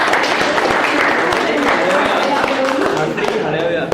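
Students in a Punjab PTE coaching classroom clap for a classmate, a steady wash of hand claps running throughout with people talking over it.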